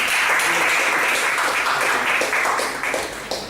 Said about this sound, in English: So please give both of them a big round of applause.